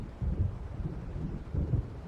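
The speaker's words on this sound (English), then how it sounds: "It seems there's a storm coming." Low rolling thunder of an approaching storm in Alan Wake Remastered, a deep continuous rumble with two swelling pulses, steady and moderately loud with no voices.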